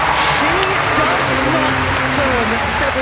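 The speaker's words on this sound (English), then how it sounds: "Her veteran teammate applauding" Sustained applause fills a gymnastics arena at a women's all-around final in Glasgow, a steady crowd clapping throughout while a commentator talks over it.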